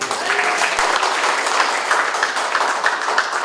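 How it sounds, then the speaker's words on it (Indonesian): Loud, dense applause from an audience at a public dialogue event in Bandung, cheering the Persib football team, with sustained crowd clapping filling the room at an even level throughout. "tepuk tangan untuk Persib"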